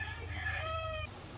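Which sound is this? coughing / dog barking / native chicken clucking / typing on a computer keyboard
native chicken clucking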